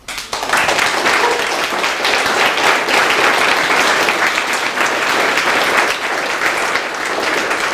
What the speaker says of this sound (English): I think you all deserve a big round of applause.